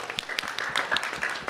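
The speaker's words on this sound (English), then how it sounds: "Let's give her a round of applause." An audience at a community roundtable gives a short burst of applause, dense overlapping claps with a few louder individual hits, steady throughout.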